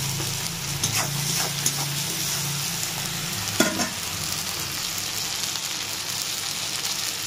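Turmeric powder frying in hot oil for an egg and baby potato curry, a steady close sizzle with a few scraping stirs of a spoon against the pan and one sharper clack, no voices.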